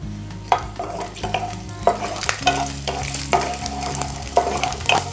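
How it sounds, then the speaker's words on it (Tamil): Garlic fries in a pan for a sweet potato and bitter gourd kara kulambu, a steady sizzle broken by repeated scraping strokes of a spoon against the pan, close and fairly loud, with no voices. "இப்போ இதில் வந்து பூண்டு சேர்த்துக்கலாம்."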